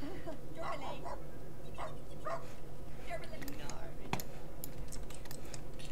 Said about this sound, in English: Oh, this is a grumpy dog.